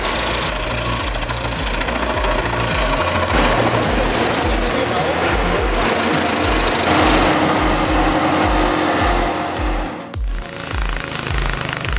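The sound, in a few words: Comptech Chippo 8010C wood chipper shredding 24-inch logs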